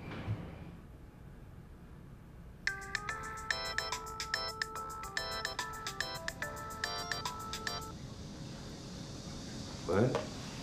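A mobile phone ringtone plays a bright repeating electronic melody for about five seconds in a quiet indoor room, then stops, followed by a brief rustle.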